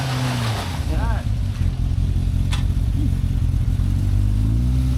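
An off-road vehicle on a dirt trail revs its engine, a loud close drone rising and falling in pitch as it pulls away, with people talking over it.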